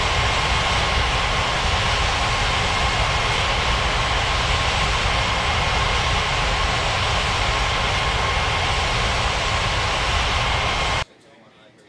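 Airliner jet engines at a busy airport in an air traffic control game, a loud steady broadband roar with a faint tonal whine that cuts off abruptly near the end, with a controller talking over it.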